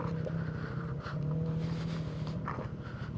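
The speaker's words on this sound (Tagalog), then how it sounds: "Itong motor na to is not built for this terrain." A steady Yamaha Mio Gravis scooter engine drones loudly and continuously, with rumbling and rattling over rough terrain, no voices.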